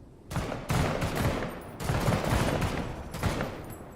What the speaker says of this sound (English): Good shooting, Pog.